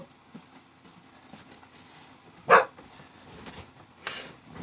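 Two sharp single dog barks a couple of seconds apart, fairly close, standing out against a quiet background with faint shuffling.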